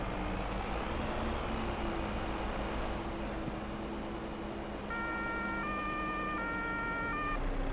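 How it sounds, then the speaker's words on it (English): Emergency vehicle siren in the Farming Simulator 25 video game, a faint wailing tone over steady engine and road rumble, with a layered electronic siren pattern entering halfway through. "New Zealand has a totally different siren."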